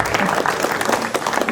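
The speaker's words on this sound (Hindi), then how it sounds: "एक बार ताली बजा दो आप लोग।" An audience claps together in a dense, lively burst of applause that stays loud from start to finish.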